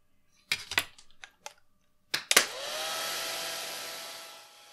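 A few light clinks and taps of brushes and jars, then a hair dryer switches on and blows steadily over wet watercolor paint of an orca, a close, whooshing whir that slowly fades near the end.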